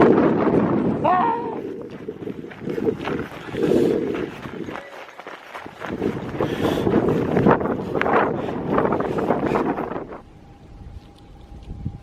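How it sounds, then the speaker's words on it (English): Strong wind buffets the microphone on an exposed mountain ridge along the Arizona Trail, a loud continuous roar that surges and briefly drops, with a few footsteps and a voice mixed in before it eases into a steady hum. "Holy shit, it's windy up there!"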